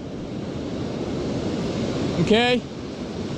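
Steady ocean surf washing on the Oregon coast, a broad continuous rush of waves with wind noise, while someone speaks a brief word over it near the end.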